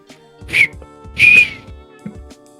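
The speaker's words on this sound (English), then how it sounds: "Whistle noises" Two clear whistle tones from a Jak video game, the second longer and steadier than the first, each standing out over soft in-game background sounds and quiet low rumble.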